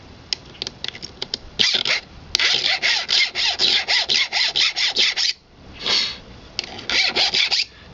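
A hand file rasps across a chainsaw tooth in quick, even back-and-forth strokes, a steady run of scraping swipes with short pauses, close and clear, with no talking.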